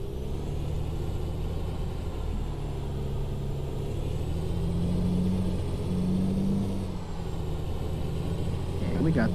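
In American Truck Simulator, a heavily loaded lumber truck crawls uphill at low RPM, its deep engine rumbling steadily and close with slight rises in pitch, while someone talks over it.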